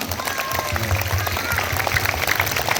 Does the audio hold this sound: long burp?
no